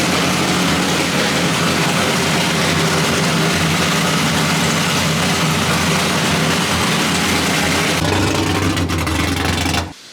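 Car with an LS engine swap idling steadily and loudly close by, a continuous low rumble with a slight change near the end before it cuts off abruptly.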